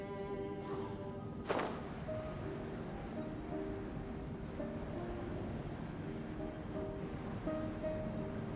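Blowing wind over broad surf-like wash in Genshin Impact, a steady ambient bed with a brief whoosh near the start and faint tonal game music threads running throughout.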